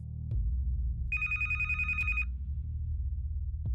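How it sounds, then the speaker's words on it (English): A telephone rings once, a single bright electronic burst lasting about a second, standing out over a low background hum in a quiet room. "my phone rang"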